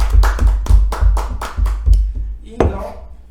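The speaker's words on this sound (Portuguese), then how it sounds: "Muito bom, uma salva de palmas pra ele." A few people clap in a small podcast studio, seven or eight distinct close claps in a steady rhythm that thin out and end with one last clap.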